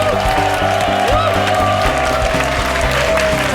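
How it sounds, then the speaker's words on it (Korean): A studio audience on a Korean TV health variety show claps in a dense, loud burst of applause that runs the whole time, with a bright musical tone sounding over it. "강한 몸신께 여러분 큰 박수 보내주세요"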